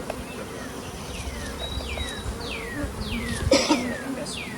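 Honeybees buzz around hives with alternative-style covers during a pest and disease survey, a steady close hum with a soft voice and descending whistle-like bird or squeak sounds repeating over it.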